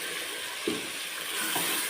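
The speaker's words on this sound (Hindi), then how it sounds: "थोड़ा सा पानी शामिल करेंगे।" A small splash of water poured into a pan of cooking chicken white pulao, a brief sizzle and hiss over a steady background, with a second softer pour near the end.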